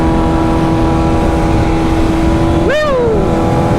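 A 2025 BMW S1000RR motorcycle engine drones steadily at a high pitch while riding, with strong wind rush. Near the end the revs climb sharply and then drop back.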